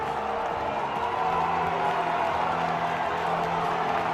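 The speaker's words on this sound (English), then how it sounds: "So one final cheer, one final exercising of the vocal cords from the Greenock Wanderers and the Berwick supporters" Rugby supporters of Berwick and Greenock Wanderers cheering at a match, a steady, dense crowd roar with whoops and scattered clapping that holds at an even loudness throughout.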